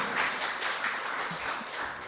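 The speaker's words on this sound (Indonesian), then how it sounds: "Tepuk tangan dulu." Steady applause from a church audience at a praise and worship night, a dense continuous wash of clapping with no talk over it.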